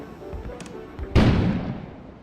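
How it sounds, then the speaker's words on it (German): A sudden explosion outside in the video game Kona: a sharp boom bursts out after a quieter stretch, then decays in a broad rumbling tail. "An explosion suddenly occurred outside."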